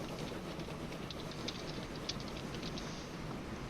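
A train running in the rail-building video game Train Fever gives off a steady rolling rumble with faint rhythmic clicking of wheels on track, continuous and fairly quiet.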